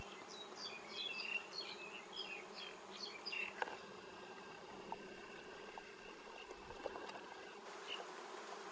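Bees buzz around their nest, a steady close drone of many wings with occasional louder passes and small knocks.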